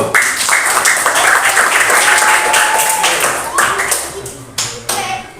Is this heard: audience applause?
yes